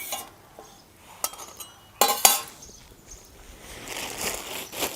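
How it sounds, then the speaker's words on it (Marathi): Roasted green chillies crushed with salt and garlic for a spicy thecha, heard as scattered close knocks and clinks of pounding, with a sharp cluster of strikes in the middle and quieter rustling between. "ह्या मिरच्या आता आपल्या भाजून झाल्या उकडीमध्ये मी मीठ आणि लसूण घालून हे बारीक करून घेते"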